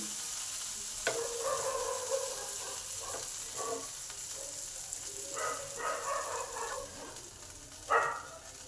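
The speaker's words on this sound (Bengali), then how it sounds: "এই লঙ্কা আর কালো জিরেটা ভালো করে ভেজে নেব" Black cumin seeds and a broken green chili fry in a little oil for a fish curry, with a quiet, close sizzle and scraping stir strokes that swell into short bursts now and then, with no talking.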